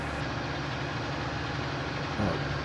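A farm vehicle engine labouring up a hill, a steady, loud, close low drone that holds without pause and swells slightly near the end, with no talking.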